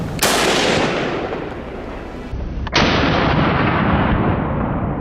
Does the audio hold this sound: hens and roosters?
no